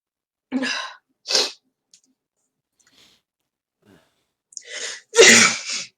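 A string of sneezes: two quick ones early on, then a pause and a louder cluster of two or three near the end, close and sharp, from a player during a tabletop role-playing game session.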